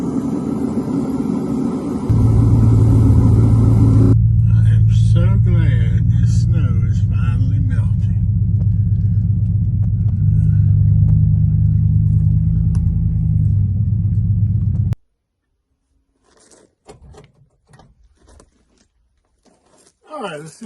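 The engine of a C/10 gasser project car, its header awaiting repair, runs with a loud, steady low rumble for about thirteen seconds, then cuts off abruptly, leaving near quiet with faint voices.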